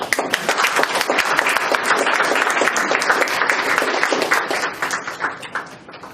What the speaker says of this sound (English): Ladies and gentlemen, applause to him.